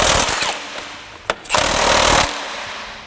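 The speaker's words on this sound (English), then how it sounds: "I've just tightened them down with an impact" Impact wrench tightening the crank bolt on a Honda Civic D-series engine during a timing belt job: two loud rattling bursts close to the microphone, the first about one second long and the second longer, separated by a short pause.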